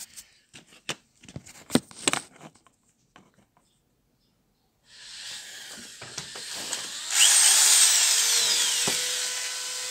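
Corded electric screwdriver being checked for a fault where it cuts out when the cord is tugged: handling clicks and knocks, then the motor whirs up after a pause and runs steadily, rising louder near the end, with no talk.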